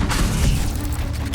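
A Bombarda spell blast in the video game Hogwarts Legacy, a brief, deep booming explosion with a rumbling low-end tail, heard alone and fairly loud over a short span.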